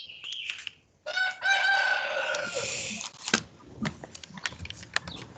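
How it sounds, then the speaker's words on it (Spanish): A rooster lets out a loud, drawn-out crow close by, followed by scattered clucks and clicks during a class held online. "Apaguen el gallo."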